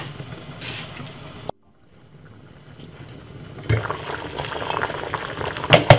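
Sweet potato soup with cream boils in a pot on the stove, a soft bubbling simmer that drops out for a moment and then comes back louder, with a few sharp pops near the end.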